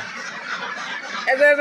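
Domestic ducks on a small farm give a brief nasal call near the end, after a stretch of soft background murmur.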